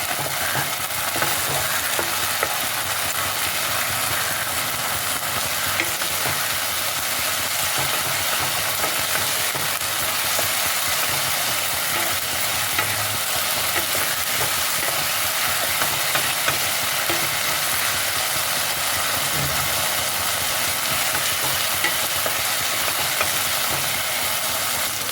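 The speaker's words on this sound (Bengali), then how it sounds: "আদা, রসুন, টমেটোর পেস্টটা দিয়ে ভালোভাবে মশলাটাকে কষাতে হবে।" A ginger, garlic and tomato masala paste fries in a pan for tangra fish tel jhal. A dense, even sizzle holds at a steady level throughout, with faint stirring scrapes beneath it.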